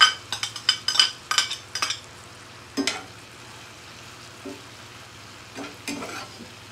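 Bean sprouts added to a sizzling tofu and vegetable stir fry, with a burst of close crackling and stirring clatter at first, then quieter scattered stirs and scrapes over a faint steady sizzle and hum.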